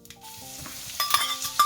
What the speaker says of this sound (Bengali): এখন আমি এড করব ওয়ান টিস্পুন পাঁচফোড়ন এড করি আর এখন দিলাম রসুন